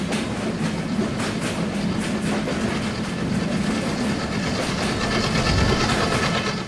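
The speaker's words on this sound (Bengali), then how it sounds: "সামনে থেকে একটি ট্রেন আসছে দেখা যাচ্ছে। খুব সম্ভবত এটা রূপসা এক্সপ্রেস।" The Rupsha Express passenger train is near Paksey railway station in Bangladesh, and it sounds like a loud, steady roar of wheels on rails with a rhythmic clickety-clack, running close by for the whole stretch with no talk.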